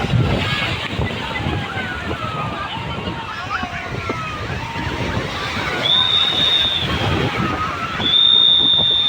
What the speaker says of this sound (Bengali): এমার্জেন্সি সাইলেন্ট বাজছে বুঝতে পারছো এমার্জেন্সি সাইলেন্ট দিচ্ছে